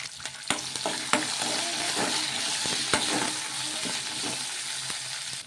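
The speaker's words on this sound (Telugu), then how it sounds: "ఒక స్పూన్ అంత జీలకర్ర అలాగే కొన్ని ఎల్లిపాయలు అలాగే కారానికి తగ్గట్టు పచ్చిమిర్చి కూడా వేసేసుకొని ఒకసారి బాగా కలిపేసుకోవాలి" Cumin, onions and green chillies sizzling in hot oil while being stirred, with a continuous close frying hiss and repeated sharp scrapes and clinks of a spoon against the pan.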